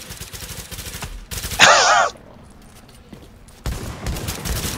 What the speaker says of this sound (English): I'm shooting them, guys.